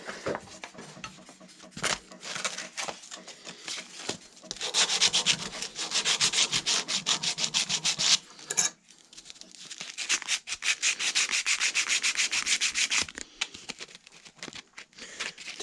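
Sandpaper rasps against a hand-forged steel screwdriver in fast back-and-forth strokes. There are two long bouts of steady rubbing with short pauses, close and fairly quiet, with no voices.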